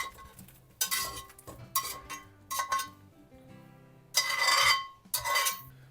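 Fried vegetables are scraped into a pot of pea soup: a series of loud metallic clinks and scrapes of a utensil against the pot, coming in separate bursts with short quiet gaps between them.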